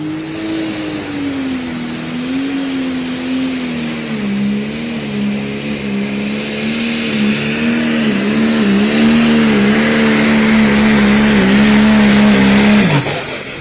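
A Pro Stock drag race car roars through a long, loud run, engine pitch holding high with rhythmic wavering, then cutting off abruptly at the end.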